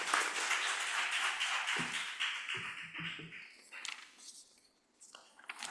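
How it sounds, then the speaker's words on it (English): Applause from a conference audience for panel speakers at a strategic dialogue session, a dense, steady patter of many hands that thins and fades toward the end, with a few sparse claps trailing off. "please join me in a round of applause for our speakers and our discussion this session"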